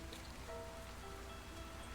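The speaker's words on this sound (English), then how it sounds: "You shouldn't stay out in the rain any longer." Steady rain falls in the spooky interactive video game LivBer, a faint, even hiss of drops on surfaces continuing without a break and with no voices.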